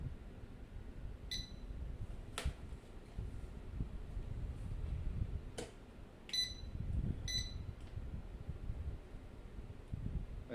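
A Pos Print 50mm handheld inkjet printer printing text gives a few short electronic beeps and sharp clicks over a steady low mechanical rumble, heard close with no talking.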